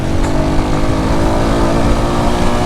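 A car creeping past at about twenty miles per hour on a Jamaican road, its engine a loud, steady, close drone with low rumbling tones and no talk over it.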